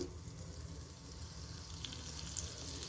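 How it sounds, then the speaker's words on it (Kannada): Half a tablespoon of butter melting in a hot kadai gives off a faint, steady sizzle, low and even throughout with no voices. "ಮೊದಲಿಗೆ ನಾವಿಲ್ಲಿ ಒಂದು ಕಡಾಯಿ ಇಟ್ಕೊಂಡು ಅದು ಬಿಸಿ ಆದಮೇಲೆ ಅರ್ಧ ಟೇಬಲ್ ಸ್ಪೂನಷ್ಟು ಬೆಣ್ಣೆ ಮಾತ್ರ ಅದಕ್ಕೆ ಹಾಕ್ಕೊಳ್ಳಿ."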